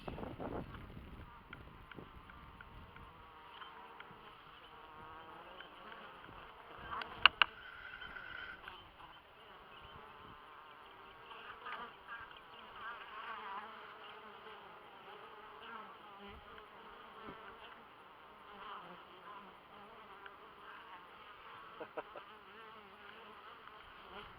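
Honeybees swarm the entrance of a hive topped with a jar box, a steady faint buzzing hum throughout with a couple of brief knocks early on and no talking.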